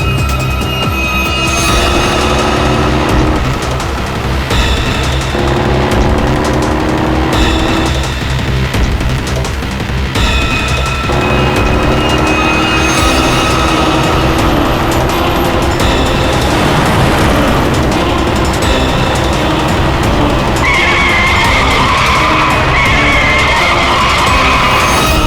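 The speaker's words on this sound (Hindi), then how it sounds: "ट्रक कहाँ से आ गया? ट्रक हटाओ! गाड़ी हटाओ!" A truck and car skid and screech through a chase scene in a crime drama, loud tire squeals and engine roar running continuously under a dense layered soundtrack, with no talk.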